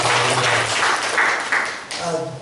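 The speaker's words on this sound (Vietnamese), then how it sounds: "Put your hands together for Jesus." Congregation applause at a church service led by a pastor, a loud, dense wash of clapping filling the clip with voices and some speech audible over it.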